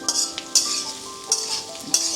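Fried okra tossed into browned onions and stirred in a pan, giving a steady sizzle broken by four sharp spatula scrapes and taps at regular intervals, close by.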